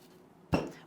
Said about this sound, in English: you're going to give it a good shake or a tap to make sure that the soil is settled into place